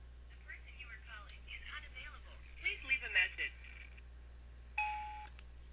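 A Sony Xperia phone rings with a short repeating electronic tone, followed by a sharp beep as the call drops to voicemail, under a voice talking.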